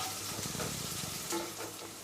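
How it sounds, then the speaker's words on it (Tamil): Onions sizzle and fry in hot oil while a spoon stirs them, cooking for banana flower poriyal, a steady crackling hiss with occasional scraping, no talking. "இப்போ நல்லா கலரி விட்டுருங்க. வெங்காயம் வதங்கணும்."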